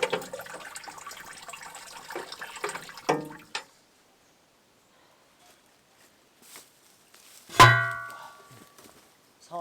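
Water tipped into a hydroelectric intake pipe at a 1.5 kW Coanda-screen hydro system in North Wales gives a rushing, sloshing pour for about three seconds. Then comes a quiet stretch and a single sharp splash later on.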